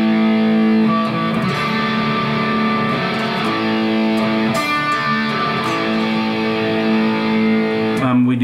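An electric guitar plays a back-picked pre-chorus chord progression from a song, with distorted tone, steady rhythmic chord changes, and a close, loud sound that stops abruptly at the end.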